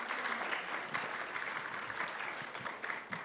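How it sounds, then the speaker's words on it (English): Steady, moderately dense clapping from an audience at a panel discussion about organisations of blind people in the Asia-Pacific region, fairly distant and even for a few seconds. "Please give him a round of applause."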